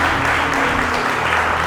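Church congregation applauding during a Sunday service, a dense, steady wash of clapping that stays loud throughout with no talk over it.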